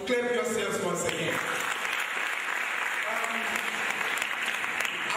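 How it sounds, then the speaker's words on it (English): A crowd applauds steadily at a graduation, dense clapping filling the whole stretch, with a voice briefly heard at the start before the clapping takes over. "So clap yourselves once again."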